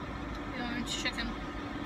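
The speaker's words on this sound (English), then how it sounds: "There's a huge semi truck next to me" A huge semi truck idles right beside a parked car, its low, steady engine rumble filling the background beneath a person's talk.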